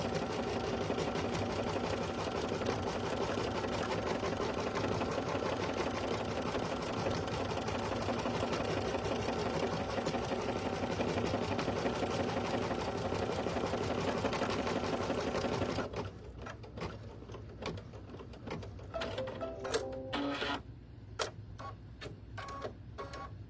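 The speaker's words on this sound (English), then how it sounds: "here we are, tacking on that second piece for our leaves" A sewing machine tacking down vinyl applique leaf pieces runs in a loud, steady, rapid mechanical whir for about sixteen seconds, then stops, leaving quieter clicks and short stitching bursts near the end.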